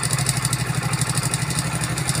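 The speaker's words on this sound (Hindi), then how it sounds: "तो आप यहाँ पे इंजन का साउंड भी सुन सकते हो।" Bs6 Hero Splendor 2021 motorcycle idling with a timing chain fault, giving a steady close-up engine drone with a fast, even ticking clatter throughout and no voices.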